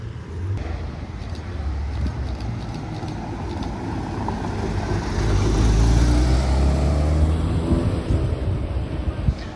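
A Porsche GT3 sports car approaches and drives past on a street in Deauville, its engine noise swelling to a loud peak midway and then fading, with faint wind and background voices.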